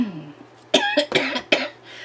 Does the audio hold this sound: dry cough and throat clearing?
yes